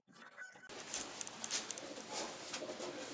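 Racing pigeons coo and rustle inside a red loft, a soft continuous murmur of many birds close by with faint flutters, no talking.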